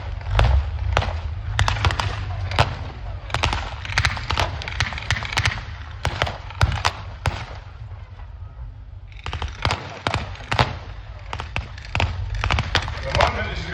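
Gunfire crackles through a WWII battle re-enactment at Tankfest, with sharp single shots and short bursts of infantry firing at irregular intervals over a low rumble of armour, loud and near, with a commentator's voice underneath.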